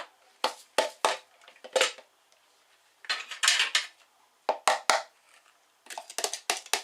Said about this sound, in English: I'm just going to mix that up with the ice in.